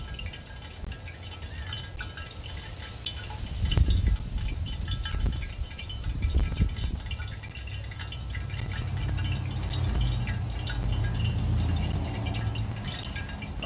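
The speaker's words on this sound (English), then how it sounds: "I hear bubbling" Chicken deep-frying in hot oil in a home kitchen gives a steady, crackling bubble and sizzle that runs the whole time, with small pops rising and falling and no voices.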